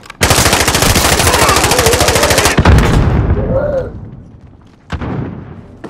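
Heavy automatic gunfire in Call of Duty: Modern Warfare, a loud sustained burst of rapid shots for over two seconds, then fading game sounds and a brief sharp shot before another shorter burst.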